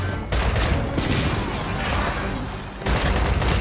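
Retrolancer rifle gunfire in Gears of War 4, a dense sustained burst of rapid shots that continues almost unbroken, with a brief gap before firing resumes, mixed with game effects.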